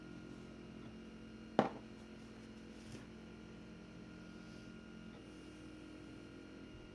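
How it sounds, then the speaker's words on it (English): A Tronxy X1 3D printer runs steadily at a low, even level, with its motors and fan making a continuous drone and hum, broken by one sharp click partway through. "We're just going to let the printer print this out, see how it works out."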